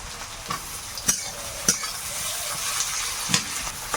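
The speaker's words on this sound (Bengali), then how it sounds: "গোটা রসুন বড় বড় কোয়া সব দিয়ে দেবো এই পেঁয়াজের সঙ্গে" Chopped onion frying with whole cumin seeds and big whole garlic cloves in a pan, a steady close sizzle with several sharp stirring scrapes and clatters spaced through it.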